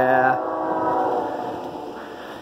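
CSX freight train G056 running eastbound on the Westshore line at Attridge Road, milepost 382, with BNSF and CN locomotives trailing: a short, loud horn blast opens, then a steady rolling rumble of the passing train.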